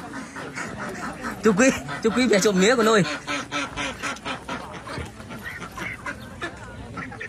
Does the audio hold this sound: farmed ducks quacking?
yes